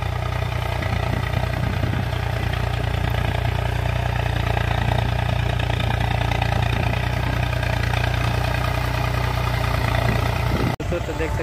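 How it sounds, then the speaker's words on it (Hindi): A tractor ploughs a field at slow speed, its engine giving a steady, continuous mid-pitched drone with light clatter that runs unbroken throughout, ending in a brief click. "इधर सामने देख सकते हैं कितना मस्त जुताई हो रही है ट्रैक्टर से एकदम आस्ते आस्ते"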